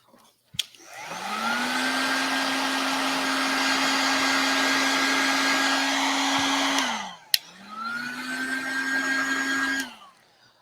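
A hair dryer blows hot air onto thin glued wooden moulding on a tissue box. It starts with a click and runs steadily as a close whirring hum for about six seconds, then cuts off and restarts briefly, with no talking.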